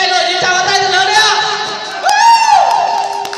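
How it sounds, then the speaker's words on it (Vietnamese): Wedding guests at a Vietnamese reception cheer and whoop in a loud, steady crowd roar that swells midway, with sustained ringing tones running underneath. "quý vị hãy nổi những tràng vỗ tay thật lớn đi ạ"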